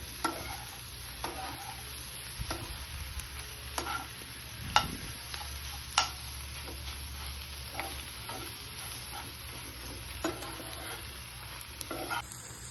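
Masala egg bhurji fries in a pan while a spatula stirs it, making a soft continuous sizzle broken by scraping strokes and a few sharper clinks against the pan.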